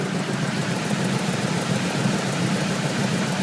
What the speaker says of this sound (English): here, listen to this engine